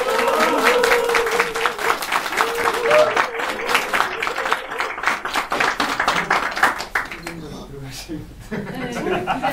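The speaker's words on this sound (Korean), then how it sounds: "많은 환호와 박수 부탁드립니다." A crowd at a labor-rights lawyer's parliamentary candidacy announcement applauds and cheers, rhythmic dense clapping with scattered shouts and voices, easing off toward the end.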